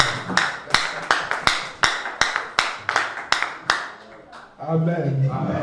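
A church congregation gives a quick round of sharp, rhythmic claps to acclaim the word of God. Some dozen distinct claps come over about four seconds, followed by a preacher's voice.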